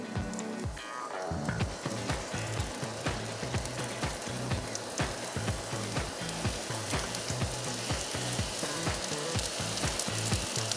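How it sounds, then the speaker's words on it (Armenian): Pear slices frying in a hot pan, giving a steady, dense sizzle with crackling pops throughout, close and continuous. "Տանձը տեղավորում ենք թավայի մեջ"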